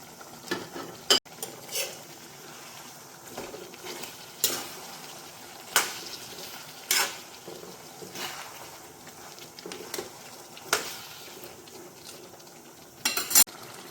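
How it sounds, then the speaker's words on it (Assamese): Previously fried onions go into a pan and are stirred, making a soft continuous sizzle punctuated by a dozen or so sharp scrapes and clinks of a spatula against metal; close, with no talking. "ভাজি ৰখা পিঁয়াজখিনি এতিয়া ইয়াতে দি দিম"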